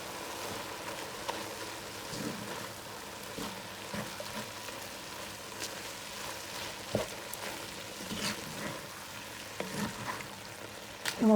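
Garlic powder and chili powder fry in hot fat for a winter squash chili, giving a steady, quiet sizzle and crackle with occasional small pops and a few soft stirring knocks.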